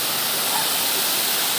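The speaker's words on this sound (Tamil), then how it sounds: "இது மலை மேலே உள்ள அருவி." Mountaintop waterfall in the Javadhu Hills forest roars as a steady broadband rush of falling water, continuous and fairly loud, with no voices.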